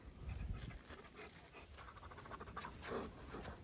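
A big dog pants quickly and steadily close by, a rapid breathy rhythm that stays quiet and continuous throughout.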